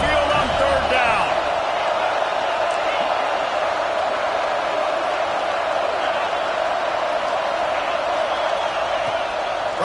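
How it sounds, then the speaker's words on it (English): Alabama home crowd at Saban Field roars on a third-down play against Miami in a college football game, a dense, sustained wall of cheering that stays loud and steady throughout. "The Tide crowd roaring noise down onto Saban Field on third down."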